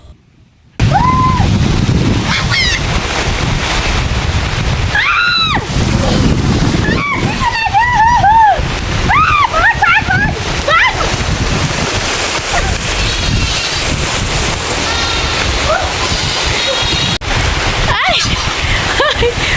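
Heavy rain falls in cold weather in Bihar, splashing water in a dense, steady hiss that lasts throughout, with a voice talking over it.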